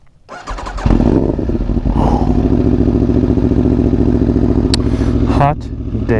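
A 2017 Aprilia Tuono V4 1100 RR fires up close by, its starter catching into a loud, rough V4 idle that holds steady, then a quick rev and drop near the end.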